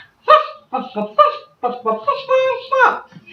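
Several voices cluck in short, pitched bursts, imitating a hen's clucking in a quick, bouncy rhythm.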